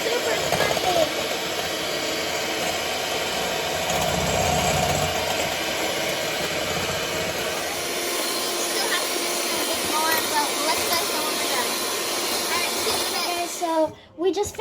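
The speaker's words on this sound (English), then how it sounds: "So we just finished whisking the egg whites and the egg yolks and the egg whites" Electric mixer whisking egg whites and yolks for a Swiss roll cake, a steady broadband whirring hiss running almost continuously before cutting off near the end.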